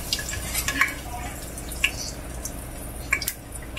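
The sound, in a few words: sautéing pork with garlic in a pan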